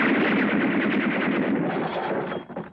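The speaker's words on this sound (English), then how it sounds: "Fire a volley through the window pane." Rapid gunfire from a film volley sprays a window pane, forming a dense, loud burst of overlapping shots that continues for nearly three seconds and then breaks off sharply.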